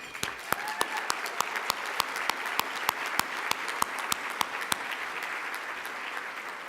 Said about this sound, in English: A great round of applause for the new state representatives, Latinos, who got elected.